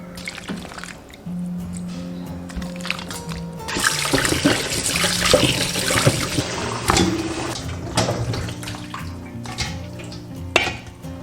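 Blanched food rinsed clean under running water in a kitchen, with a rising splash and trickle in the middle, scattered drips and clinks of a pot or bowl around it.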